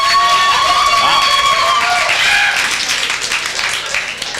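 Loud crowd applause and cheering at a comedy club fill the room, broad and sustained, fading a little toward the end.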